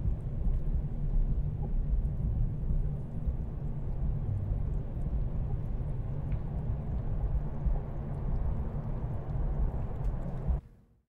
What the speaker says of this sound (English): salt bubbling, this deep cave ambience I found in my library, some vinegar baking, and some wind